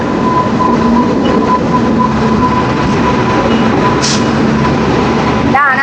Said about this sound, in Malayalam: അങ്ങനെ നമ്മുടെ ഭാരത് ഗൗരവ് സ്പെഷ്യൽ ട്രെയിൻ എത്തിയിട്ടുണ്ട് കേട്ടോ.